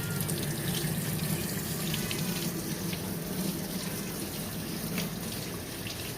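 A water sprayer rinses dirt and dust out of washed mohair Angora goat fiber at a sink, giving a steady close hiss of running spray that continues unbroken throughout.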